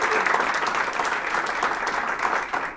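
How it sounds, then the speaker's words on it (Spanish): An audience at a morning talk gives a warm, sustained round of applause to welcome a psychologist, steady crowd clapping that holds loud and even before fading at the very end. "El aplauso fuerte para ella, para que se anime."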